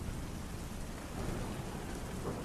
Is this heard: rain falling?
yes